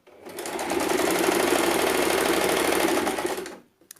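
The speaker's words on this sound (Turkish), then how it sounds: "Böyle lastiği dikmeden şu şekilde makine dikişime gideceğim." A sewing machine runs steadily while stitching children's boys' shorts. Its close, continuous rapid whirr and clatter lasts about three seconds before stopping.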